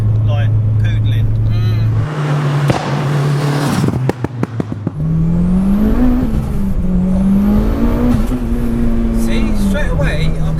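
A 720 bhp Mitsubishi Evo VII is driven hard, its engine droning loudly. The revs climb and shift through gears as it accelerates, with a voice talking over the engine noise from inside the car.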